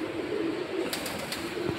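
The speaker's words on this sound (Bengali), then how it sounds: "এগুলা হচ্ছে আমার কবুতর আছে" Pigeons at a farm coo softly in low repeated calls, close by and steady. A few sharper sounds come in near the end, with no talking.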